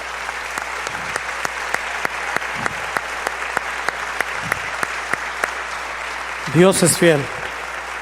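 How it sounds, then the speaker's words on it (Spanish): Church congregation clapping in a steady rhythmic beat, moderately near, under a preacher's voice, ending with a short spoken phrase over the applause. "¿Cuántos quieren darle una ofrenda de palmas a la fidelidad de Dios?"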